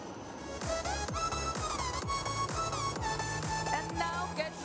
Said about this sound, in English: The helicopters are flying at just 50 meters above the ground